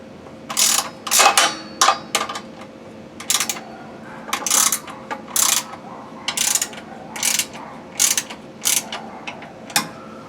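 A ratchet wrench tightens bolts while installing a mulch kit on a Ferris FW 15 mower, close and loud repeated clicking bursts in steady strokes with short pauses between them.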